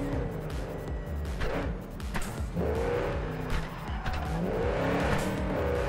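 A car in Cyberpunk 2077 driving hard and fishtailing, its engine revving up and down while tires skid and squeal in several bursts, loud and continuous.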